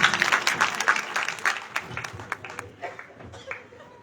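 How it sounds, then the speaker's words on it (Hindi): Audience applause at a kavi sammelan, a Hindi poetry recital: a loud burst of many hands clapping that gradually thins and fades over about four seconds, with no speech over it. "एक बार जोरदार तालियों के बीच"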